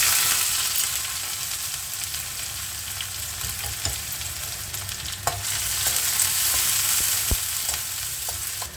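Steady, crackling sizzle of chopped onion frying in hot oil, continuous and fairly loud, with occasional sharp pops and no talking.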